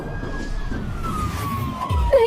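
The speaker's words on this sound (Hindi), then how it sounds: "लेकिन तभी पुलिस की गाड़ी आकर रुकती है।" A police car siren wails steadily over background noise as the car arrives in a cartoon scene, its tone gliding slowly downward, with a brief sharper sound near the end.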